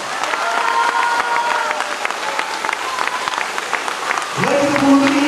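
An audience at a concert marking the International Day of Persons with Disabilities bursts into sustained, dense applause filling the whole stretch, with a voice briefly heard near the end.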